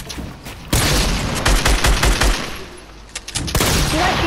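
Fortnite gunfire in a 1v1 match, loud rapid bursts of shots with booming impacts, two dense volleys separated by a brief lull.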